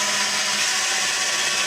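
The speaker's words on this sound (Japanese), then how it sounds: "電動ドリルに、切断砥石つけて油引いてできます" An electric drill fitted with a cutting disc and lubricated with oil cuts into thin metal for a homemade IKEA hobo stove, a loud, continuous high-pitched grinding whine, close and alone.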